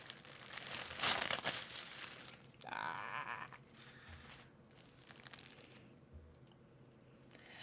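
A parcel package is ripped open by hand in quiet indoor surroundings, giving a few short crinkling, tearing bursts of paper and plastic separated by softer rustling pauses.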